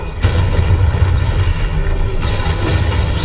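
A Confringo fire spell in Hogwarts Legacy bursts into a deep booming explosion, followed by a second heavy blast with a whooshing tail, loud and close, with no talk over it.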